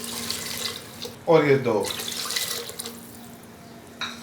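Water splashes briefly into a pressure cooker holding beef kofta curry with tomatoes, a short pouring burst amid kitchen noise while a person talks.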